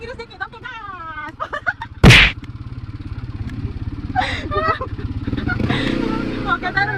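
ATV engine idling and then revving up while riding in Bali, a low chugging rumble that rises toward the end, with people talking and calling out over it and a sharp clack partway through.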